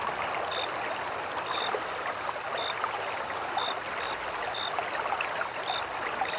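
In a cartoon, poison is poured from a bottle into water, giving a steady rushing, trickling pour that runs the whole time at an even level, with a faint high tone repeating above it.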